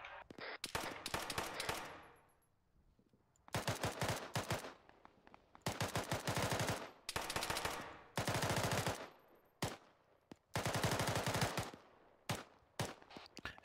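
Machine gun fire in Arma 3, long rapid bursts of loud, close automatic shots separated by short pauses, some bursts clipped short, with no talk.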